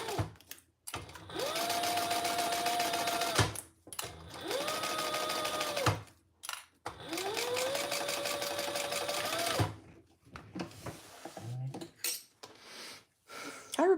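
Sewing machine stitching black waterproof canvas for a sling bag, three sustained bursts of fast whirring stitching separated by short pauses, close and loud, followed by quieter clicks and handling.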